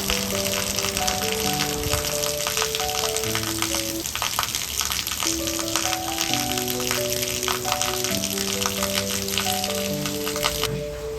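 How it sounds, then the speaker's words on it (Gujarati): Heavy village rain hisses steadily and densely throughout, with background music playing underneath. "બહાર જઈને જોયું તો જબરજસ્ત વરસાદ પડતો હતો"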